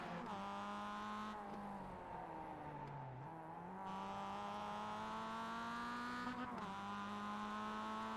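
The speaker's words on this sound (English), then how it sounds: "he hit the rev limiter. You hear that?" A Mazda race car engine in iRacing at Long Beach screams at a high, steady pitch, held flat against the rev limiter, with brief dips as the revs drop and climb back.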